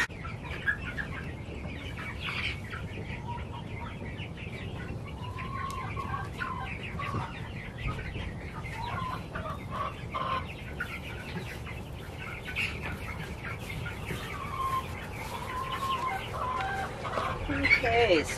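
Chickens cluck continuously around a farmyard during early morning chores in hot weather, a busy flock close by with scattered calls and an occasional crow, while a person talks intermittently over them.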